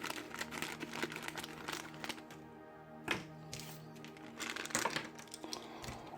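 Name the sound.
unwrapping Beyblade toy parts from packaging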